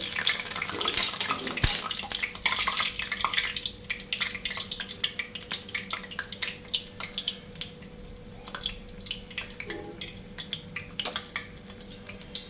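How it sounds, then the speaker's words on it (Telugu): Black-eyed pea garelu (vadas) fry in a kadai of hot oil with a fine, steady crackle, punctuated by faint clinks and stirring, strongest early on and settling to a soft sizzle. "ఓకే కళాయి ఆయిల్ మరిగిన తర్వాత మనం గారెలు ఇలాగా వేసుకోవాలి"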